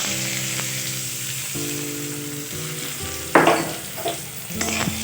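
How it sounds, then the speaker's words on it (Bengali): Bay leaf, whole garam masala and chopped onion frying in hot oil in a wok, giving a steady close sizzle with occasional louder bursts and stirring scrapes, with a faint background hum. "এখন আমি দিয়ে দিচ্ছি তেজপাতা, গোটা গরম মশলা, দিচ্ছি পেঁয়াজ কুচি"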